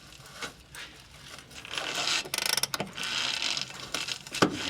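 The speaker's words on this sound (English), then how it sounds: "You guys will be able to hear that bushing in there spinning." Worn control arm bushing spinning inside a car frame, recorded close up: a faint rattling, grinding scrape with irregular clicks and brief louder bursts, no talking.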